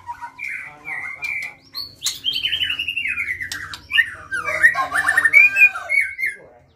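A white-rumped shama (murai batu) fighting bird singing nearby, a varied run of loud whistles, squawky calls and rapid chattering phrases with brief pauses, over faint low background noise and no clear speech.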